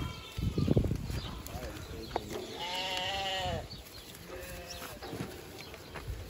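Hungry goats at an animal garden in Aruba, several loud nearby bleats, one long wavering cry in the middle and shorter calls after it, mixed with people talking and rustling.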